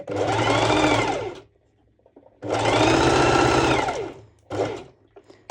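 A sewing machine runs in two loud, steady bursts of rapid stitching through stretch net with elastic for a sporty top, then a short third burst, with near-silent pauses between them.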